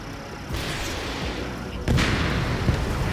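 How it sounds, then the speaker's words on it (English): Missile launches in the Ace Combat 7 flight game roar as a continuous rushing blast, with a fresh, louder surge about two seconds in and low rumbling underneath. "Mage 2, missile launch."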